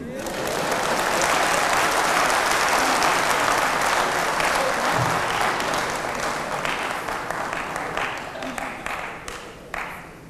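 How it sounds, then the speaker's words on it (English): Sustained applause from a lecture audience at the UGCC @ 70 event, loud and dense for several seconds, then thinning into scattered individual claps toward the end. "Please clap for him."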